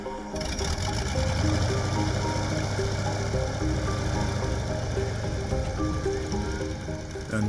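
Reconstructed WW1 Waterbird seaplane engine running with a steady, loud mechanical clatter and rapid rhythmic knocking throughout, close and continuous with no talk.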